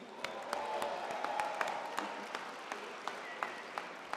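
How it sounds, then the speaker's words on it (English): Audience applause at the Walter Camp Football Foundation national awards dinner, a soft, distant room-filling patter with a few sharper individual claps standing out. "please give a warm round of applause to the members of the 2022 Walter Camp All-America team"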